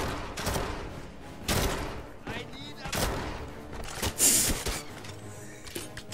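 Gunfire crackles in the 007 Legends video game, with sharp bursts and mechanical clatter repeating over several seconds, while a person talks over the action.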